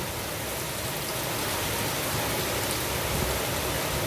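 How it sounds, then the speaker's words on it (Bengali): Continuous, even night rainfall in front of a house, hissing steadily throughout, a dense wash of drops with no voices or other sounds. "তোমাদেরকে একটু বৃষ্টি দর্শন করিয়ে দিলাম"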